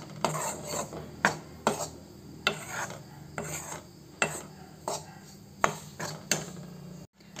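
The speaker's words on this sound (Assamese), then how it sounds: "এইখিনি এতিয়া মই ময়দাখিনি ভাজি আছোঁ অলপ অলপকৈ" Maida flour being stirred and roasted in ghee in a pan, a spatula scraping across the metal in regular rasping strokes, repeated steadily with short pauses.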